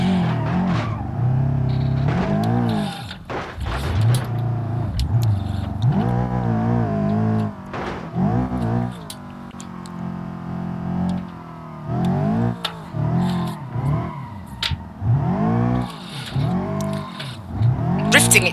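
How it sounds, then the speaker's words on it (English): A car in BeamNG Drive drifting, its engine revving and rising and falling in pitch with tire squeal through the turns, loud and close with someone talking at times. "Drifting it's a bit too much here."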